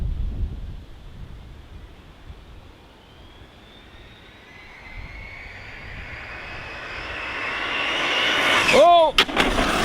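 An ARRMA Mojave 6S BLX RC car with a 20T pinion speeds along tarmac, its high electric whine growing from distant to a loud close pass near the end, then dropping sharply in pitch.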